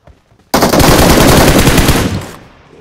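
Rapid automatic gunfire from a video game fires in one loud, continuous burst of about two seconds, then cuts off into a fading tail.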